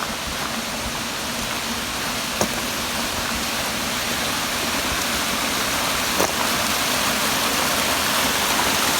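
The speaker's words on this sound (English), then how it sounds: "We even have waterfalls." Waterfalls at Patterdale Side Farm campsite produce a steady, unbroken rushing roar of falling water, fairly loud and constant, with a couple of faint clicks.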